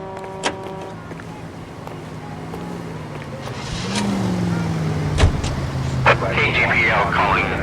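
Car driving in the video game L.A. Noire, a steady low engine hum with tonal shifts as it accelerates, plus a few clunks and brief mechanical sounds near the end.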